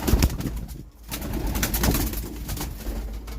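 Young pigeons leave a loft on their first flight, with dense cooing and fluttering that run steadily for a few seconds, close and fairly loud.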